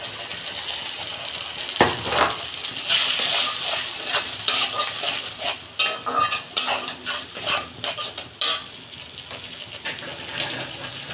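Spice paste frying with onions in a pan, a sizzle with repeated scraping and stirring of a utensil against the pan and occasional clinks, close and fairly loud.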